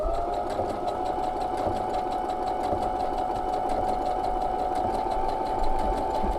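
A sewing machine runs steadily while stitching a blind hem, with a continuous close mechanical hum and a fast, even needle chatter and no pauses, and no voices.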